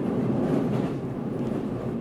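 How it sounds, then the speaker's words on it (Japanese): A Kansai Main Line train in Japan rumbles steadily along the rails, a low continuous roar heard from inside a carriage, moderately loud with no voices. "列車は朝の光を浴びながら雫川の北側を走ります"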